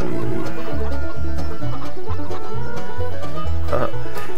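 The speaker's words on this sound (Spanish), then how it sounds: "Qué gracioso los gallitos." Chickens and a rooster in the Farming Simulator 17 video game, clucking repeatedly and loudly over a steady rhythmic background music loop, with no talk.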